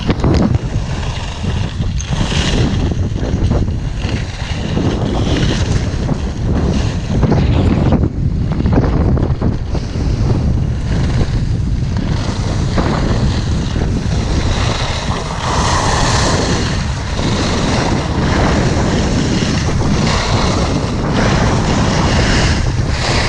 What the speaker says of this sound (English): Wind is brutal.